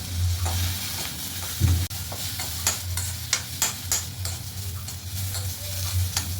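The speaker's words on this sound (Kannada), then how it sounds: "ಕರಿಬೇವು ಇಷ್ಟನ್ನು ಎಣ್ಣೆ ಹಾಕದೆ ಹುರ್ಕೋಬೇಕು" Curry leaves being dry-roasted in a pan with no oil for a ragi mudde and bassaru meal, giving a steady soft sizzle with repeated scraping stir strokes and a hum underneath, close and moderately loud, no voices.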